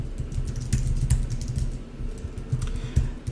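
Rapid typing on a computer keyboard while coding a Google Ads API web app: close, steady clicking keystrokes in uneven bursts, with no talking.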